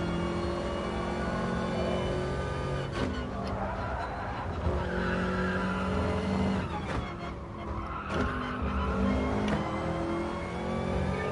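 A Subaru race car in a racing video game roars continuously at high revs, with tire skids and squeals rising over the engine several times, loud and unbroken throughout.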